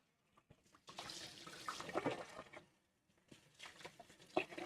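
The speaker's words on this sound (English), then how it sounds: "Yeah, I gotta wash the whisk." A whisk with matcha on it is rinsed under a running kitchen tap. Close splashing and water patter start and stop in short bursts, with faint clinks between.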